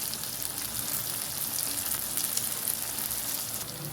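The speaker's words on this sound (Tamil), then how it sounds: "நம்ம வந்து பூண்டை போட்டு நல்லா வதக்கி விட்டுருலாம்" Garlic sautéing in a pan for a garlic curry, a steady close frying sizzle that holds evenly throughout, with no voices.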